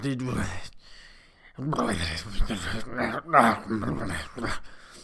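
A human voice imitates a dog, producing a run of whimpering, yipping and growling vocal sounds close up, with short pauses between the bursts.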